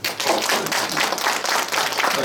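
Steady applause from a lecture audience in a cultural center hall after a humanities talk on aging, dense even clapping sustained throughout at a consistent level.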